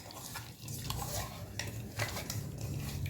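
Barramundi pieces being worked by hand with salt and turmeric in a bowl, a steady close squelching and scraping stir with light clinks of a utensil against the dish.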